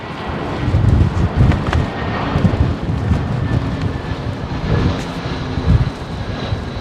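An airliner taxiing at London Heathrow Airport on a windy day, a loud continuous engine rumble and roar mixed with gusty wind buffeting the microphone.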